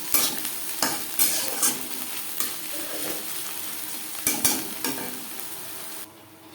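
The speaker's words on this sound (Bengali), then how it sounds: "সেই তেলে দিয়ে দেব পেঁয়াজ কুচি আর দিয়ে দেব দুটো কাঁচা লঙ্কা" Chopped onion and two green chillies fry in oil with a continuous bright sizzle, punctuated by regular scraping strokes of a spatula stirring the pan, until the sound drops away at the end.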